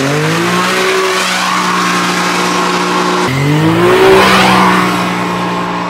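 A Can-Am Maverick Max UTV launches hard from a standstill, its engine note climbing steadily through the gears with a brief shift dip midway, loud and close throughout, with no voices.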